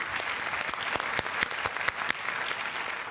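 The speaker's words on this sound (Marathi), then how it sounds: "प्रेक्षक स्टँडिंग ओवेशन देते" A studio audience at a Marathi comedy show rising for a standing ovation, a broad wash of clapping with sharp individual claps standing out, steady and lively from start to end.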